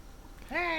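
A single sheep bleats in the video game Atlas, one short rising call heard close but faint.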